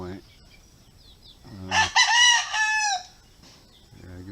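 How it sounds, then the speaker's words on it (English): A fighting-cock rooster crows once, loud and fairly close, in a single drawn-out call among chickens on Camiguin Island, with a brief spoken word just before. "I guess that's a rooster."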